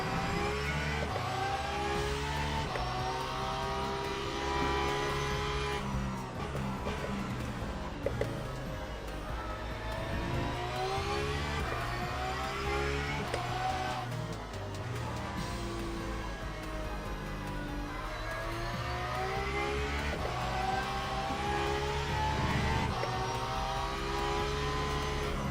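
A race car in the sim game Le Mans Ultimate, its engine revving continuously with rising and falling gear pitches through shifts, loud and up close from the cockpit, no talking.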